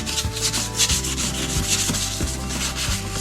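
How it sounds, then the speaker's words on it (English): Sandpaper is rubbed across a plexiglass surface in steady back-and-forth strokes, a loud, rhythmic rasp with a stroke repeating about every two-thirds of a second and no voices. "So let me sand this"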